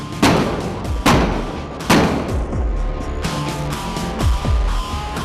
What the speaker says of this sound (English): 76mm, single shot fire